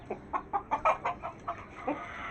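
A hen, an Aseel chicken whose voice sounds changed as if her throat is sore, gives a quick run of about ten soft clucks in an uneven rhythm, close by and fairly quiet against a still background.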